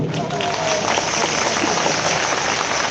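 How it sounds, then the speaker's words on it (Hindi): Audience applause at a live comedy and speech event, a dense steady wash of clapping from a crowd, moderately loud and continuous, with faint voices mixed in. "लेकिन मुझे लगता है आपकी तालियां थोड़ी कमजोर रही।"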